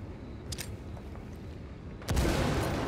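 Gunfire and a grenade blast in the tactical shooter Ghost Recon Wildlands: scattered shots and a sharp pop early on, then a loud, sudden burst near the end that stays dense and sustained.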